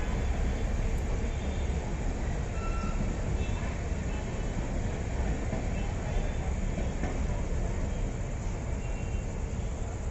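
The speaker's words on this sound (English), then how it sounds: "There we can see the headlights of the oncoming Lalbagh Express towards KSR Bengaluru." Lalbagh Express from Chennai pulling into Krishnarajapuram station at night, a steady loud rumble of the approaching train filling the whole stretch with constant low mechanical noise and no talk.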